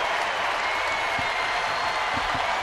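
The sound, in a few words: baseball stadium crowd ovation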